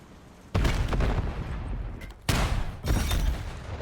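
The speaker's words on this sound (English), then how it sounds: "Nades are a flying, guns are a shooting." Video game combat with bursts of gunfire and grenade explosions: three loud booming volleys that each start sharply and roll on, separated by a quieter lull.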